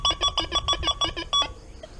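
An XP Deus II metal detector sounds its square-pitch target tone while testing for relics. Eight quick, buzzy beeps pulse in a fast, even rhythm, then stop, leaving faint background hiss.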